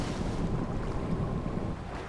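A modified car gliding over dark water in GTA 5, a continuous rushing wash of water and wind noise, loud and close, with no talking.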